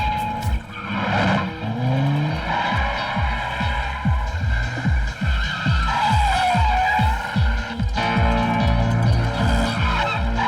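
Movie car chase: a car is driven fast, its engine revving in a rapid, repeated throbbing pattern while tires squeal and skid, loud and close, with no talk.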